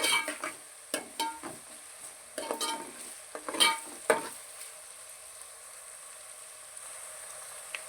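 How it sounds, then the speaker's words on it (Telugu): Onions and green chillies frying in hot oil in a pan for a dried-fish and brinjal curry, stirred with scraping clicks in the first half, then a steady soft sizzle alone. "ఉల్లిపాయ పచ్చిమిరపకాయ దోరగా వేగాయండి."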